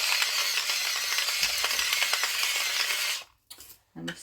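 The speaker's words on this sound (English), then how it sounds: "And the salt is a much better grinder" Salt grinder cranked by hand over a pot of beef stew, giving a steady close rasping crunch for about three seconds before stopping, then a couple of brief clicks.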